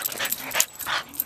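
A pet dog makes soft, close yips and whimpering noises in a short burst of uneven, breathy sounds, fairly quiet and with no talking.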